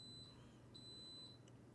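An Instant Pot beeps in the background, a faint, high, steady electronic tone with a short break and a few brief chirps near the end, heard alone.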